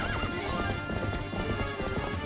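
Horses gallop with rapid clip-clop hoofbeats and whinnying during a mounted battle against many enemies in the video game Zelda Twilight Princess HD, with dense loud game sound and music throughout.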